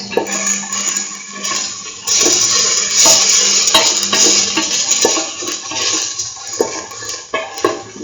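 Curried lentil rice with egg being sautéed and stirred in a pan, a steady sizzle with scraping and stirring noises from a utensil, close and fairly loud with no talk.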